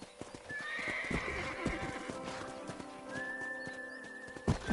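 A horse in the Red Dead Redemption video game trots with steady clip-clop hoofbeats and gives a clear neigh, with a whistle-like tone rising over the steps; no speech is heard.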